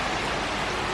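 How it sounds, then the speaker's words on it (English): Steady rain falls in a dense, even hiss, fairly close and constant with no breaks. "Dang, it's raining now."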